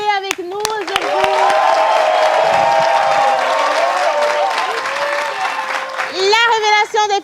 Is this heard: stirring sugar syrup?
no